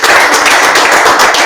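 A live audience claps for visiting guests at a Spanish-language gathering on depression and anxiety, a dense, steady patter of many hands filling the short moment at close, loud level.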